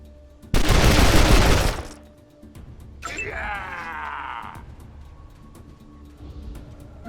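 A loud burst of automatic gunfire rips through a Wasteland 2 combat scene, followed by a strained groaning voice and softer game sounds.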